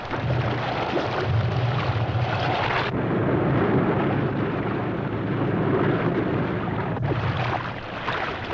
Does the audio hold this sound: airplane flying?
yes